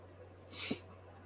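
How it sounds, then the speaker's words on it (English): A single quiet sneeze, a short breathy burst with a brief voiced catch at its peak, against a faint steady hum. "I gotta sneeze."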